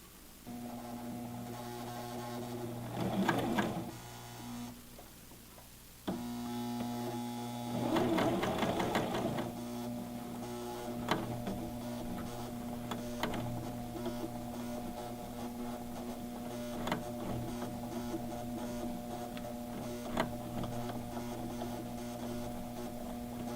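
A coverstitch sewing machine works along a basted hem in bursts, whirring briefly, pausing, then running steadily with a faint mechanical hum and periodic clicks, close and quiet with no talk.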